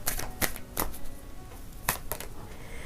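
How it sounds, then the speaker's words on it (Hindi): Tarot cards shuffled close by, a few sharp papery slaps and flicks spaced irregularly over a few seconds, with no talking. "let's shuffle more cards to C"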